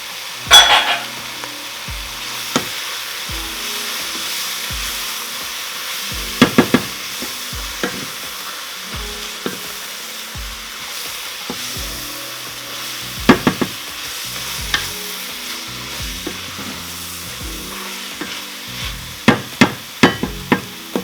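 Tomato paste stirred into sizzling chicken fajita soup in a pot: a steady soft sizzle broken by spoon scrapes and sharp taps against the pot, clustered at irregular intervals.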